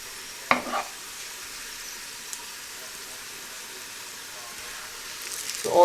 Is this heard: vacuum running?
no